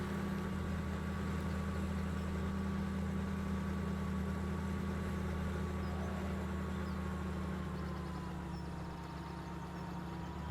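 Heavy tractor engine in Farming Simulator 17, a steady low diesel drone with a constant deep hum and a faint higher whine, close and loud throughout with no talking.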